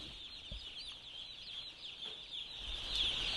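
Young chicks in a brooder under LED lighting give a dense, continuous chorus of high peeping and soft clucking, close by and fairly quiet, with no speech.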